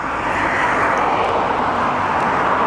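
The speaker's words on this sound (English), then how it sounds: "That's a new aircraft here for Qatar." A new Qatar Airways aircraft arrives at Barcelona on runway 24R, its engines producing a loud, steady roar that fills the short stretch without a break.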